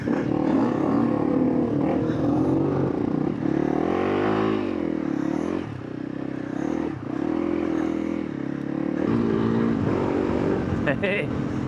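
Rally motorcycle ploughing through deep sand on a forest track in Thetford Forest: the engine drones and surges in uneven revs, loud and close, with the rider talking over it.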